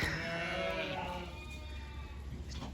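Sheep and young lambs bleating at lambing time on a farm, with one long wavering bleat near the start over a steady low background hum, with fainter calls following.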